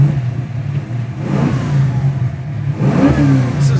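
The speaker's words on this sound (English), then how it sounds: "This 383 is a super high revving engine." The 383 stroker V8 in a 1979 Camaro Z28, a 350 built out to 383, idles with a deep rumble. It is revved sharply twice, loud and close, with no talking.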